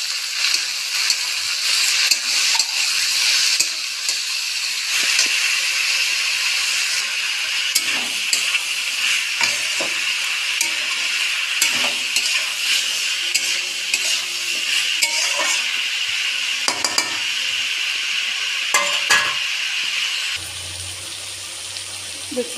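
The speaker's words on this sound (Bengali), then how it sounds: "এবার আমি সবজিগুলো একটু ভালো করে নেড়ে নেব।" Vegetables frying with four slit green chillies and tomato are stirred in a pan, a steady close sizzle with scraping spatula strokes and occasional clinks running throughout, ending with a brief quieter tail.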